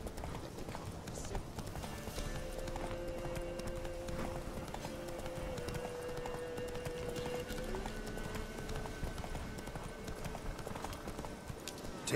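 Geralt's horse Roach galloping in The Witcher 3, with steady rapid hoofbeats that drum on for over twelve seconds, close and continuous, under a constant ambient wash.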